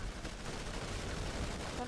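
Gunfire in a zombie shooter video game, a dense stream of rapid shots rattling continuously under loud, overlapping game noise.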